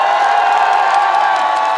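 A festival concert crowd at an autumn flower festival cheers, whoops and shouts steadily, a dense, loud wash of voices that holds without pause throughout.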